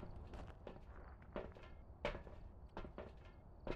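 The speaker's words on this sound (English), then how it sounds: "I heard footsteps" Footsteps in the horror game Phasmophobia thud at an uneven pace, faint and somewhat distant, with no talking.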